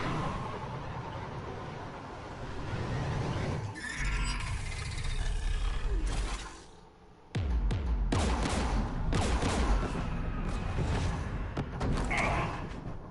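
Bursts of gunfire from Geth anti-aircraft guns beside a jamming tower in Mass Effect 3, heavy thuds and cracking blasts in irregular clusters, loud and close, with a brief lull midway before the barrage resumes.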